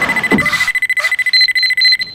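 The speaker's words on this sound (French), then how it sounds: "C'est quoi? Une alarme?" An electronic alarm in an animated children's episode rings with a rapid string of sharp, high beeps that turn into longer repeating tones, loud and close, with a brief bit of other sound at the start.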